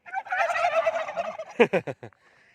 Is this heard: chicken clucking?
yes